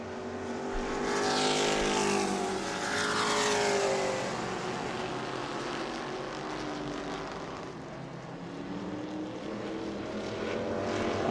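Modified race cars circle an oval track in a Hoosier series event at New Smyrna, engines swelling loudly as they pass close by and fading as they round a corner late in the race, with steady roaring between passes.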